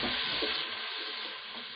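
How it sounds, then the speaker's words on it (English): Chopped onion, garlic and green chilli sizzle steadily in melted butter and oil in a pan, a dense close frying hiss with faint stirring, loud at first and easing slightly, no voices. "Our onions are now blanched, so all sizzling away nice in the pan"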